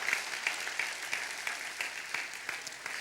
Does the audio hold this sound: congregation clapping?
yes